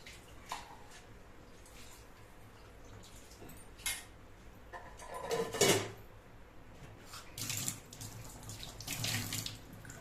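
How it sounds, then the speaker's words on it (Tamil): Water from a tap runs in short bursts and splashes while kuzhambu is being made, with clinks and handling noises in a quiet kitchen and no talk. "நமக்கு குழம்புக்கு எவ்வளோ கிழம்பு வேணுமோ அவ்வளோ நல்லா தண்ணி சேர்த்து"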